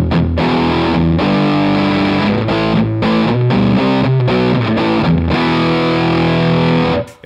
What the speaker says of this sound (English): Then, lastly, the bass knob cranked. It sounds like this.